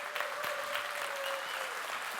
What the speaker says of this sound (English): I would like another round of applause for him.